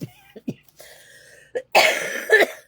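A few short coughs and throat-clearing bursts early on, then a louder, raspier cough-like burst lasting about a second, fairly close.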